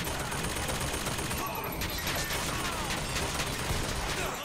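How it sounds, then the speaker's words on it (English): A possessed turret gun in Bioshock Infinite fires in sustained rapid bursts, a dense crackling rattle of shots with a voice speaking over the gunfire throughout. "Or my own turret gun."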